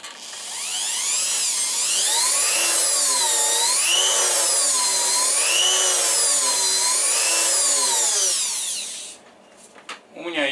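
A rotary engraving drill runs steadily for about nine seconds, its pitch wavering up and down as the speed changes, loud and close, then stops, leaving a few faint clicks.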